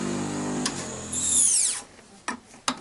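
Multi-function motor with a grinding wheel spinning, a motor whine that rises to a high pitch and then winds down, followed by a few sharp knocks.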